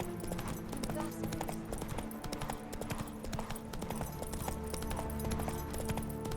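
Roach the horse gallops in Witcher 3, with a steady, close clip-clop of hooves running throughout over game ambience and music.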